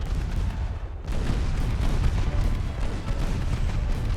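Naval gunfire from heavy warship guns in the naval battle game Ultimate Admiral Dreadnoughts. A loud, dense rumble of blasts and booms starts abruptly after a brief lull and continues without a break, with no voices.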